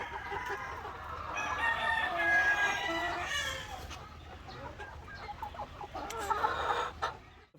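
Barred Rock and grey hens in a breeding pen cluck and chatter continuously, with a rooster-like call mixed in, moderately close and fairly soft, with no speech.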